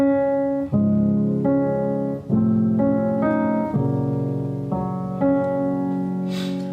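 Slow sustained chords on a keyboard, changing every second or so, each held and ringing into the next, no voices.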